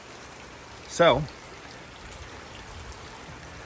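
Water rushes through a Flushmaster automatic boat engine flush system with a Salt Away applicator, a steady hiss like running rain, with a single short spoken word near the start.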